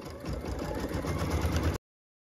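A computerized quilting machine stitches a Drunkard's Path quilt block in a hoop, a steady, fast mechanical whirr with a low rhythmic chatter that runs close and evenly, then cuts off abruptly.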